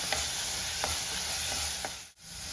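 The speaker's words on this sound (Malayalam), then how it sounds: "അതിലേക്ക് നമ്മൾ അരിഞ്ഞു വെച്ചിരിക്കുന്ന കുമ്പളങ്ങ ഇട്ട് കൊടുക്കാം. കുമ്പളങ്ങ എണ്ണയിൽ ഒന്ന് വഴറ്റണം." Chopped ash gourd sautés in hot coconut oil, Kerala style, a continuous close sizzle broken by a few soft stirring knocks, briefly dipping near the end.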